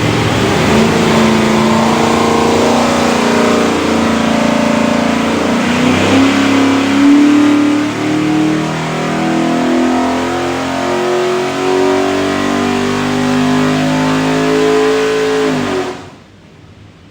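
A Borla-stacked 427 Windsor V8 on a dyno revs hard and loud at close range, climbing through a long pull, then drops away abruptly at the end.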